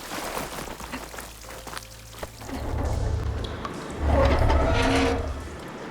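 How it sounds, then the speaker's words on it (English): Water runs inside a room in the Horizon Forbidden West video game: a steady rushing pour that swells louder after a couple of seconds and again near the end, heard alone without talk. "I can hear water in the room again."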